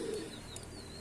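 A single low, soft coo from a pigeon kept as a breeding pair with a silver male, brief and close in a quiet setting.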